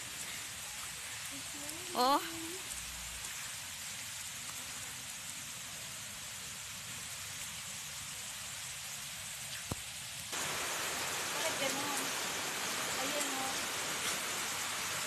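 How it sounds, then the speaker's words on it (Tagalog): Heavy rain pours down on a muddy resort trail, a steady broadband hiss that suddenly grows louder partway through, with a brief exclaimed voice and a few faint sounds near the start. "Ayan na, lakas na ng ulan."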